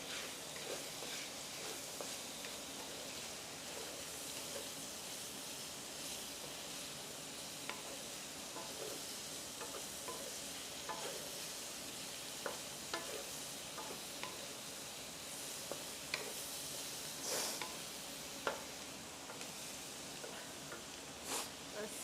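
Garlic sizzling in a hot pan for cucumber braised pork belly, a steady close hiss of frying with scattered small pops and light stirring clicks, continuing evenly throughout.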